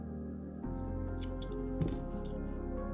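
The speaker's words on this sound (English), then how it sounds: "Snip." Scissors snip through crochet yarn in one quick, close cut over a steady low background hum.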